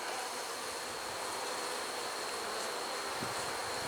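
Honey bees buzzing inside a hive with a weakly laying queen: a steady, dense, close drone running without a break, with no talk.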